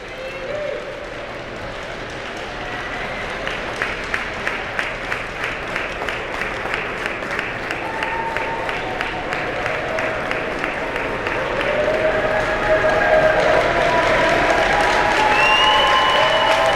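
At the final of the 2016 Ice Sledge Hockey Pan Pacific Championships in Buffalo, an arena crowd applauds steadily through a trophy presentation. The sustained clapping swells toward the end, with an announcer's voice and a few whistles over it.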